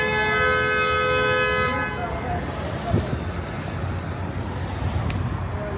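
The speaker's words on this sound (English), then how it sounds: "Some impatient person honking." A car horn sounds in a long held blast for about two seconds in Toronto downtown traffic, then fades into a low street rumble.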